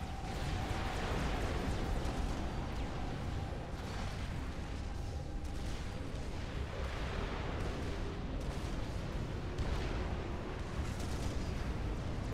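Mobile missile launchers firing in Supreme Commander: Forged Alliance produce a dense, continuous wash of rumbling explosions and launches. Scattered louder booms rise out of the steady battle roar, with no voices.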